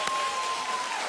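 Studio audience applauding on a daytime talk show, a dense broadband wash of clapping that stays steady and loud for about a second with no voices on top.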